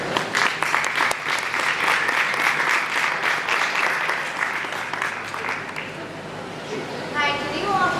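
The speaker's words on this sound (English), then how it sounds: "So having a round of applause for her." An audience at an ISES chapter presentation in Detroit gives a warm round of applause for the next speaker, with steady clapping that tapers off toward the end as a voice begins over it.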